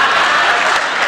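Brief, loud burst of audience applause at a Hindi comedy poetry stage event, thick continuous clapping filling the moment with no talk.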